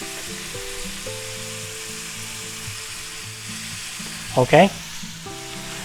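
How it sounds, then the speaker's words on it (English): Chopped green onions sizzle in a frying pan, a soft steady crackle with a brief louder burst of stirring, while someone talks over the cooking. "now we're going to add some green onions. Now they've been chopped. We'll put them in there."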